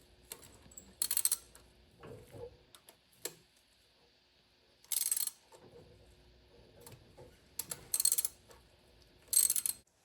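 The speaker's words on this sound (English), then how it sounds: "I'm just tightening these down now in a crisscross pattern, a little bit at a time" Bolts on the carburetor of a 1985 Chevy Caprice Classic are tightened a little at a time in a crisscross pattern. Quiet, intermittent metallic ratchet clicks come in short bursts separated by pauses.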